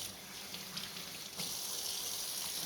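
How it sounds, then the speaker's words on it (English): Running tap water splashing over a tie-dyed cotton shirt as it is rinsed at a sink, a steady close hiss that grows fuller partway through as the flow strengthens. "We're going to continue rinsing this. Make sure to get every little spot."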